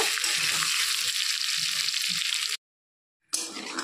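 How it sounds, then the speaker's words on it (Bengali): Potatoes and pointed gourd fry in hot oil with a loud, steady sizzle close by. The sound cuts out briefly, then the sizzling resumes. "আলু আর পটলগুলোকে বেশ একটু লাল লাল করে ভাজতে হবে"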